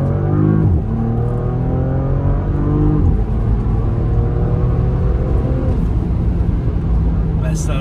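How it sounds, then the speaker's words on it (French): Porsche Panamera long-wheelbase with a 2.9-litre V6 accelerating hard on a road out of a village, a loud in-cabin engine note climbing steadily through gears with brief dips at shifts, someone speaking over it. "Bah, ça accélère fort."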